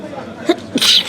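Someone nearby gives a single short, sharp sneeze with a quick breath before it, loud and close in a quiet room.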